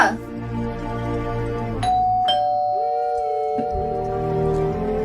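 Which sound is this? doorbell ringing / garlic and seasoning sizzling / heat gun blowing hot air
doorbell ringing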